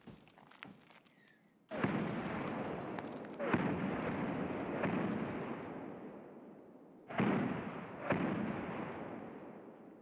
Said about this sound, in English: Oh, God, here come the mortars.